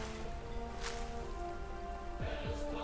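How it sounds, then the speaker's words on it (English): Rain falling steadily as a soft, even patter of drops heard close, with a faint tonal hum and a couple of brief sliding tones in the background and no talking. "Good thing it's raining."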